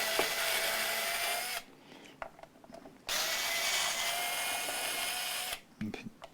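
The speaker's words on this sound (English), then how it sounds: "Here go more scratch plate screws." A power screwdriver backing scratch plate screws out of an acrylic LED-equipped SG-style guitar: two long, steady whirring runs broken by a quieter stretch of small handling clicks and taps.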